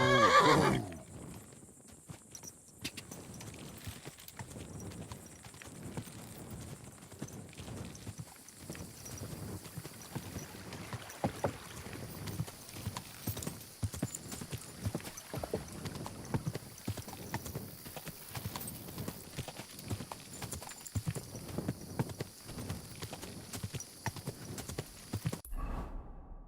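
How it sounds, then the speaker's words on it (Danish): Horse hooves clip-clop steadily at a gallop across a long stretch in the Kingdom Come: Deliverance 2 video game, with a whinny near the start and a continuous background ambience beneath the rhythmic footfalls. "vi rejser hurtigere til hest, end jeg når at opfatte"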